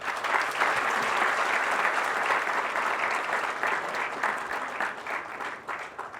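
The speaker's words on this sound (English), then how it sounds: "Please give them a round of applause." Sustained applause from an audience at an Indian Air Force book event, a dense, steady wash of many hands clapping at even loudness, easing slightly toward the end.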